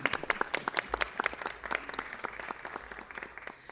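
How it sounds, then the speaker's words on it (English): Audience applause at a community celebration honoring the Beverly Press and Park La Brea News, a steady patter of many hands clapping close by, sustained for several seconds with a faint voice underneath. "If we could give them all a round of applause again."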